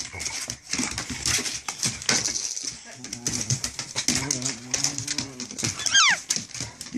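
A small dog whimpers and whines in short, high cries, mixed with a person talking softly nearby.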